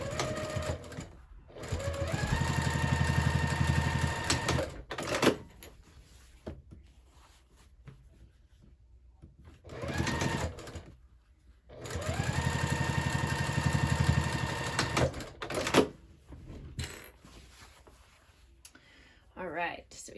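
A sewing machine top stitching a handbag runs in two sustained bursts with a rising and falling whir close by, and a voice talks in the gaps and over the stitching.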